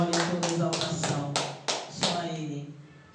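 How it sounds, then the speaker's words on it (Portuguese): A church congregation claps in praise during a worship service, a run of sharp, fairly close claps in a steady rhythm over sustained organ or keyboard tones, with claps thinning toward the end. "E as palmas louvam ao Senhor mais uma vez."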